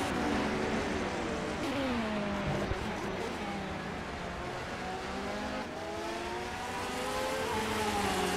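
A Porsche GTLM-class race car, number 13, roars through a Long Beach street circuit in a racing video game, its engine note rising and falling steadily and loudly alongside other cars for several seconds.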